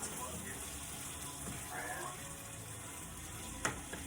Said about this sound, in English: I just let it fry and continue to add butter as to taste